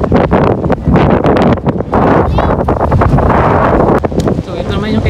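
Strong gusty wind buffets the microphone around kite flyers in Winnipeg, Canada, producing loud, near, rumbling bursts of wind noise in irregular pulses, with voices speaking over it.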